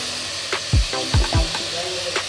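Broken wheat (dalia) for khichdi hits a hot pan with a brief sizzle and a few soft thuds, over a steady background hiss.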